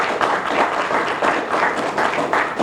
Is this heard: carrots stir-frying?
no